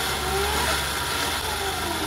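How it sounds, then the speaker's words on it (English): Vevor 8x14 mini lathe with a servo motor upgrade running a test cut, a steady mid-pitched mechanical whir with a low hum, close and continuous throughout. "let's do a test cut and see where we're at."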